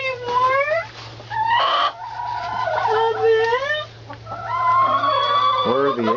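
Chickens cluck and squawk inside a chicken house, several birds calling loudly and close in overlapping bursts over a steady low hum, with little pause.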